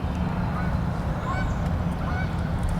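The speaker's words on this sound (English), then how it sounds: "Let's see if these geese will make them gobble." Geese honking outdoors on a sunny, lightly windy spring morning along a logging road during a Tennessee turkey hunt, a few faint, distant calls rising over steady wind and low background noise.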